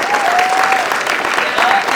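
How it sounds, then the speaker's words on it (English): An audience applauds a panel at a town hall event, a steady wash of close clapping that holds throughout, with faint voices and a whistle in the crowd. "We give them all a round of applause."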